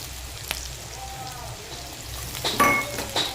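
Onion fries in a pan with garlic paste and ginger paste, a steady hiss and crackle throughout, close, swelling with a few sharper sizzling bursts toward the end.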